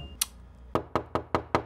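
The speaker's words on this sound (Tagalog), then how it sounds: "Sino ba yung katok ng katok na yan?" A sharp single tap, then a pause before five firm, evenly spaced knocks on a door, close and crisp in an otherwise quiet room.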